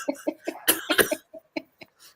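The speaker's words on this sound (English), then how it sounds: "I'm gonna try really hard not to have a coughing fit." A run of rapid, harsh coughs from a person on a podcast, about a dozen bursts close to the microphone, fading into a few quieter isolated coughs at the end.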